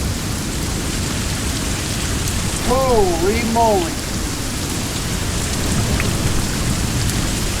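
Pea-sized hail and heavy rain pounding down during a violent thunderstorm, a loud, dense steady clatter throughout, with a brief spoken exclamation and a short warbling tone partway through.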